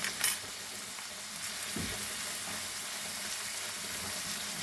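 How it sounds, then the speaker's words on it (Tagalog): Ground meat sautéing with garlic and onion crackles in a pan, a soft continuous sizzle with a brief clatter near the start and a light scrape of stirring, nobody speaking. "Ibisa ko muna itong giniling sa bawang at sibuyas."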